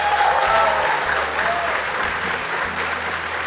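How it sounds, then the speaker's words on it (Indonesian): Audience applause at the close of an Indonesian televised talk event about young entrepreneurs, a dense steady clapping with faint background tones and murmur underneath. "Boleh minta tepuk tangannya sekali lagi?"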